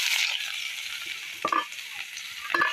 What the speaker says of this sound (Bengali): গরম হয়ে গেছে, আমি ফোড়নে কালো জিরে দিয়ে দেবো। এবার কুচায় রাখছিলাম পেঁয়াজটাও দিয়ে দেবো।